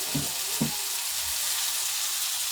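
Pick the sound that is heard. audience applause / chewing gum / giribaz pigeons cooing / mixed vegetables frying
mixed vegetables frying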